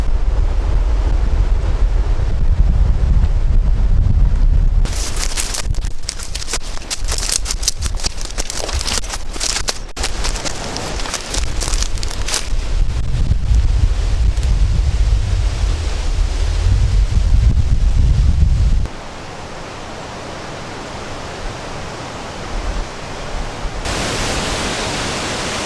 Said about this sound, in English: it's a real shame that we have to have this wind,